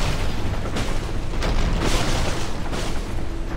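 Several deep booming 12-gauge shotgun blasts in quick succession over a dense rumbling background in the video game Phantom Brigade, with no voices.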